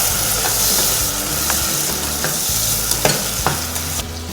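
Tomatoes sautéing in a pan for Pongal kuzhambu give a loud, continuous sizzle with repeated scraping stirs and occasional clacks of a utensil, close up and steady throughout.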